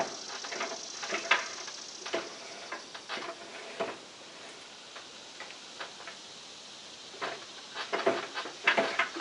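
While slackening the rear chain on a Polaris vehicle, someone works a tool that gives repeated ratcheting metal clicks in uneven bursts, close and moderately loud, with no talking.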